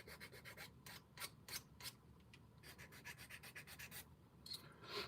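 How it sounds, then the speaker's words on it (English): Short rasping file strokes shaping a small axle part for an SCX24 RC crawler, a quick uneven series of scrapes up close with no talking. "Do a little bit of filing this down."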